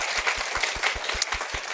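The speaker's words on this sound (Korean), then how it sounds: "박수." A small audience claps for a newly introduced English teacher, a steady run of about eight even, close claps with a rhythmic beat and a soft, airy wash of applause behind them.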